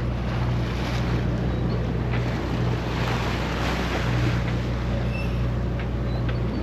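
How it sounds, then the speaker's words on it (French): A sailboat's steady low engine drone runs beneath broadband wind and water noise at sea, continuous throughout with no voices. "si t'entends, il y a encore le moteur"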